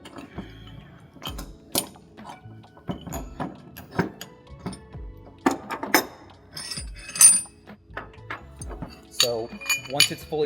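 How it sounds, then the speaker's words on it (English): A crescent wrench tightens the lock rings on a trailer hitch ball, producing scattered metallic clinks and scrapes up close, with intermittent quiet speech between the knocks. "I will set this through so I can hold it while tightening it down with my crescent wrench."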